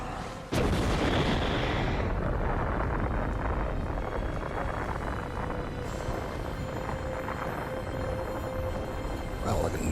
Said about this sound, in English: Wow, like a nuclear explosion